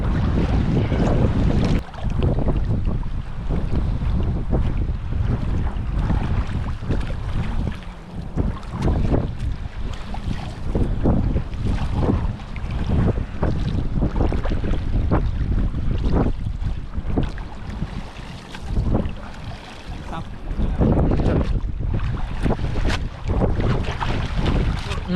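Wind blows hard across a seashore on a cold day of prawn fishing, a loud, continuous gusty roar buffeting the microphone with brief lulls.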